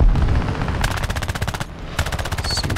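Aircraft machine guns from a Hawker Fury Mk II biplane in a War Thunder air arcade battle, fired in two rapid sustained bursts of evenly spaced reports separated by a short pause, loud and close over a steady engine drone.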